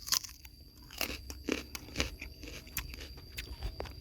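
Close, quiet crunching bites and chewing of a fresh Nawader date fruit, a series of crisp irregular crunches over a few seconds.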